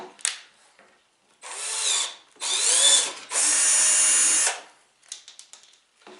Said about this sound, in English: got all the holes drilled